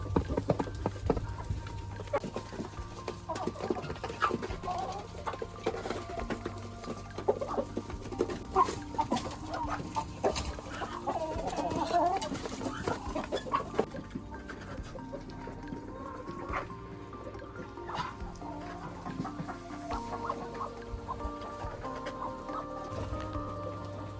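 Domestic chickens waiting to be fed cluck steadily throughout, a soft, continuous chorus of clucks at moderate distance with faint outdoor background noise.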